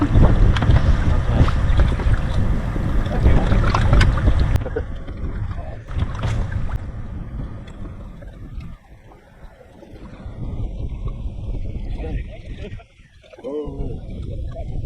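Wind blowing over a lake, heavy gusting rumble buffeting the microphone, loudest at first and then easing and swelling again, with a voice speaking briefly beneath it.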